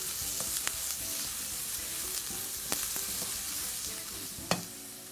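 Garam masala and spices frying in a pan, a continuous close sizzle with occasional stirring clicks and scrapes against the pan, moderately loud, no voices.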